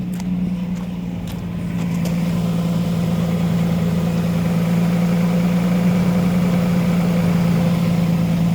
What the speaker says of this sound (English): the AC compressor is going out in this one